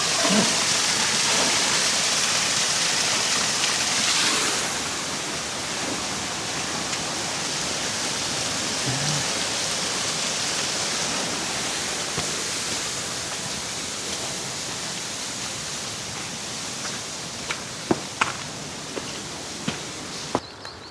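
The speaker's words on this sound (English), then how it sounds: "What a rushing water in there, hidden by the bushes." A stream hidden behind bushes rushes steadily on a rainy walk in Scotland, a loud continuous hiss of water that fills the whole stretch, with a few sharp footstep-like knocks near the end.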